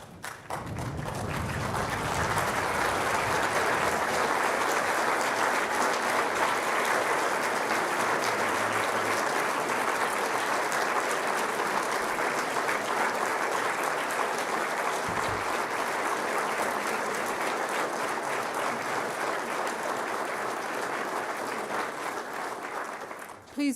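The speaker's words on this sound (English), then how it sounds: "Applause for your senior officers of the University of Liverpool." Sustained audience applause at a University of Liverpool graduation ceremony for the School of Engineering, a dense, steady wash of clapping from a large crowd lasting over twenty seconds before tapering at the end.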